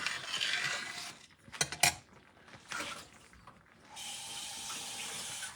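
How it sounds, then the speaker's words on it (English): Cold water runs from a kitchen tap while peanut butter fudge is made, a steady hiss with some clinking handling noises in between, the flow stopping and then resuming. "Get some more cold water."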